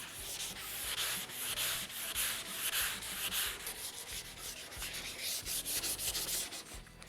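Close block sanding on a Camaro's car body before paint, a continuous hissing scrub with rhythmic back-and-forth strokes that stays loud and steady throughout, with no talking.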